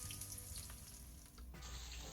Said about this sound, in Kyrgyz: күчтүү отто картошкабызды кызарта кууруп алабыз тышын